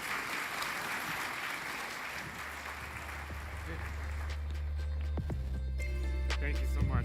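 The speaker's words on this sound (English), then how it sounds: "another big round of applause for the winners that just got off stage" An audience at a tech conference panel applauds. A dense wash of clapping runs steadily throughout, with low rumbling tones and a few sharper knocks building toward the end.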